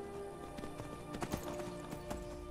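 Steady clip-clop of horse hooves trotting at a moderate pace in the modded video game Skyrim, mixed with a faint background hum and tones, fairly quiet.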